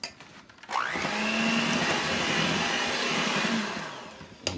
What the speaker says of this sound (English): Use the mixer.